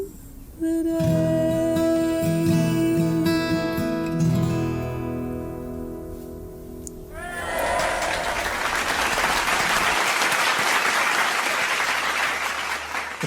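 A folk club audience applauds after a folk song. Sustained music and singing come first, then a dense wash of clapping rises around the halfway point and continues loud and steady to the end.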